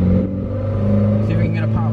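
A Mitsubishi Lancer Ralliart engine hums steadily while driving, a low constant drone with a slight rise in revs, up close from inside the car, with a voice talking over it.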